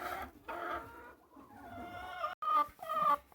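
Several hens cluck and murmur close by on a homestead farm in the morning, with short rising calls that come and go over a steady barnyard background.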